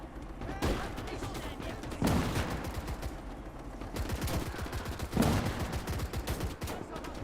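Repeated bursts of gunfire and heavy impacts in a World War II combat game, with volleys around two-second intervals, some sharp shots close and loud over a constant background of battle noise.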